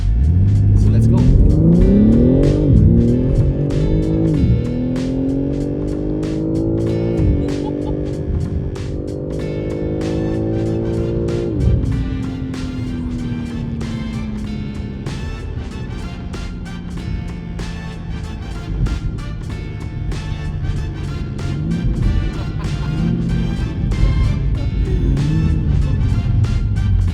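A 2023 BMW M3 Competition Touring in Sport Plus mode accelerates hard, its engine note climbing through repeated rising sweeps with gear changes, then settling into a steady drone; loud and close throughout, with some talk over it.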